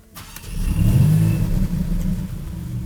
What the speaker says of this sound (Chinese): 我再 start 一次它的 engine